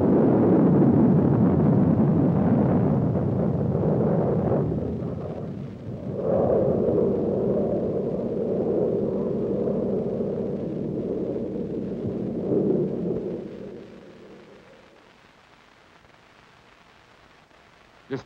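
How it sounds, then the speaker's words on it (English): Nike Hercules surface-to-air missile test launch and interception at White Sands Missile Range in 1963: a loud, sustained roaring rumble that dips briefly, surges again, then fades away to near quiet. "An Army Nike Hercules was to go against a target of equal power and speed, another Nike Hercules missile."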